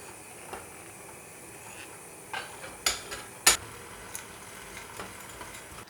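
Cream being stirred into melted white chocolate with a spoon in a bowl, for a cocoa cake's cream filling: a few light, sharp clinks and scrapes at irregular intervals, close and fairly quiet.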